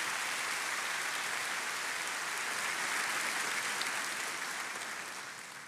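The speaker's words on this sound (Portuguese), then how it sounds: "Você pode aplaudir" A church congregation applauds, a soft, dense, rain-like wash of many hands heard from a distance, steady throughout and tapering off at the end, with no voices over it.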